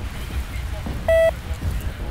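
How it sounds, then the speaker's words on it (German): A single loud electronic alarm beep lasting about a fifth of a second signals the start of a youth fire brigade and mountain rescue challenge, set against low background rumble and faint voices. "Achtung, Alarm!"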